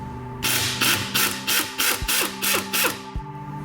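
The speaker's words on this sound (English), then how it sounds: "The 3/8 inch impact made quick work of the axle flange bolts." A 3/8 inch impact wrench removes axle flange bolts on a Lamborghini Gallardo during a rear-wheel-drive conversion, giving about eight short, evenly spaced rattling bursts at close range over a steady background hum.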